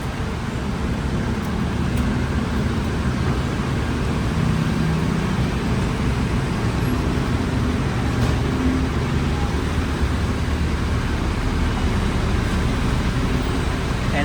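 Steady roadway traffic at the EDSA busway bus station by SM Megamall Ortigas makes a continuous dense roar of buses and cars, moderately loud and unbroken, with no clear voices over it.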